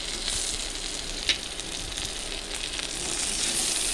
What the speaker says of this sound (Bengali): চালটা আমি হালকা নেড়ে দেব।